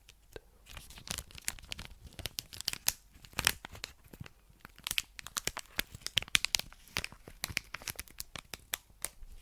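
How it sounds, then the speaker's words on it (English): Crinkly plastic wrapper of an NBA trading card pack being handled and torn, a busy stream of sharp crackles and rustles close up, with no talking. "Some good crinkling sounds."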